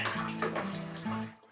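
Cold tap water running steadily into a wine fermenter holding Chardonnay grape concentrate, a continuous close splashing pour that fades out at the end.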